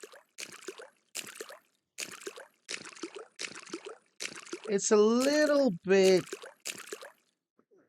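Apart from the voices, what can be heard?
footsteps in water sound effect in Unreal Engine 5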